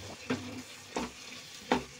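Pea masala for matar paneer sizzles softly in a pan, with three rhythmic spoon strokes scraping through it at close range over a low, steady frying hiss.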